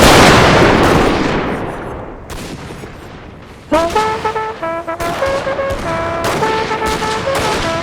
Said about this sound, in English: Confederate forces are gonna keep on firing forwards